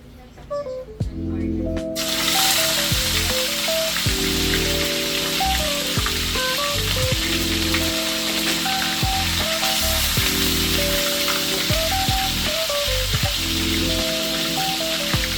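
Food sizzling and frying in a hot pan (kawali) while misua soup is prepared, a loud continuous crackle that starts abruptly, with background music playing throughout.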